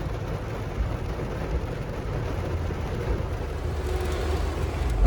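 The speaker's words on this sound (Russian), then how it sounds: "Такой ливень жуткий." Heavy downpour during a car journey from Yakutsk to Altai, a steady broadband roar of rain hammering the vehicle, loud and continuous for the whole stretch, with a rumbling low end and no voices.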